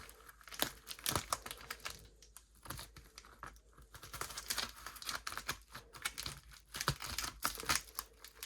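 Rapid crinkling and snipping of scissors cutting plastic packaging, a busy run of sharp crackles and clicks close by.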